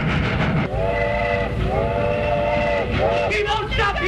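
Runaway train in a 1929 film, loud and steady rumbling with long sustained whistle blasts followed by shorter wavering toots.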